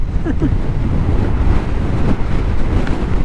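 Strong wind by the Pacific Ocean in Dingalan after Typhoon Karding, roaring steadily and loudly into the microphone with surf mixed in, continuous and unbroken.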